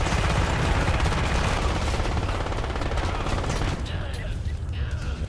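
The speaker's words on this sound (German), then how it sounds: "Ja, geben wir mal die Maschinenpistole." Submachine gun fire in Crysis: a sustained rapid automatic burst, loud and close, stopping abruptly near the four-second mark as it falls quieter.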